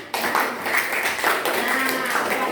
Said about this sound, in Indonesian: Yes, good job. Tepuk tangan.